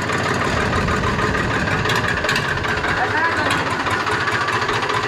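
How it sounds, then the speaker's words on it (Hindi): A Mahindra 265 tractor engine idles loud and close in a steady, rapid knocking rumble that carries unbroken throughout, with a voice faintly under it. "बड़ा इस ट्रैक्टर का इंजन तैयार है"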